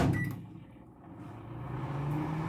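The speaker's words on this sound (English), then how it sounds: "we still have to put this in the microwave." A microwave oven runs with a steady low hum while melting a melt-and-pour soap base, starting with a brief click and staying even and fairly close throughout.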